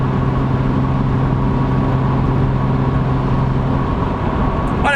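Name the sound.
BMW Z4 exhaust drone with backbox delete, driving uphill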